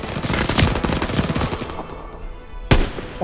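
Rapid automatic gunfire from the video game Call of Duty: WWII, a loud close burst of sharp overlapping shots, a brief lull, then another sharp report.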